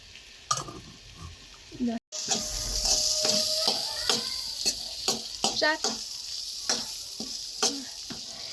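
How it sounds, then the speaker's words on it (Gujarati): Corn chevdo frying and sizzling in a pan, stirred with a spoon that scrapes and clicks against the metal in repeated strokes over a steady close sizzle, with a brief cut partway through. "હવે આપણે આમનામ હલાવતા રહેવાનું છે થોડી વાર લગી"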